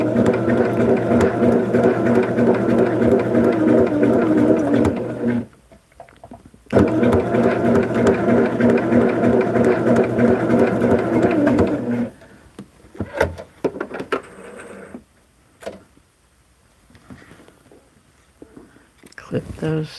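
A sewing machine stitches fabric placemats in long steady runs, a loud close mechanical whir with a fast regular rhythm, stopping briefly then resuming before falling quiet amid small handling clicks as a person talks.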